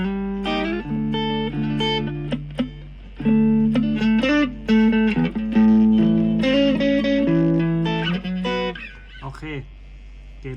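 An electric guitar plays a melodic phrase in a clean tone through a Cube Baby amp, with sustained notes and some bends, loud and upfront with no talk over it.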